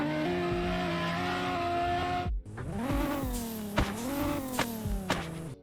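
Nissan 350Z engine in the Prodigy Drift video game, revving hard with a steady high drone before a brief cut, then climbing and falling through repeated throttle blips and gear changes, loud and close with no talk.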